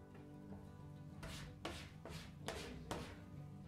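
Rosca de reyes dough is kneaded by hand on a work surface, giving a few soft, dull thumps and slaps at irregular intervals over a low steady background hum.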